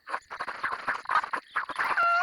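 Rapid, choppy clucking from a chicken in the game WildCraft, sounding synthetic, in quick bursts with brief gaps.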